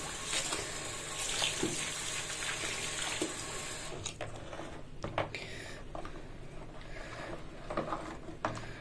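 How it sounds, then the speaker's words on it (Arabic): Water pours from a tap into a homemade shower gel mixture, a steady close rushing splash for about four seconds, then stops, leaving softer handling sounds and faint drips. "انا هزود ميه من هنا."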